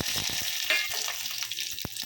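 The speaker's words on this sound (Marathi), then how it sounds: "दोन लाल मिरच्या साबूत सोप थोडं हिंग हे फोडणीत इथे तेल घेत फोडणीत टाकलं" Whole red chillies, fennel and asafoetida hit hot oil for a tempering, giving a close, crackling sizzle with several sharp pops and spits over a low hum, no voices.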